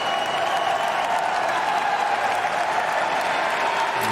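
Tennis crowd at the US Open applauding and cheering for Tommy Paul in his third-round match against Alexander Bublik, a steady, dense wash of clapping that holds at an even level throughout.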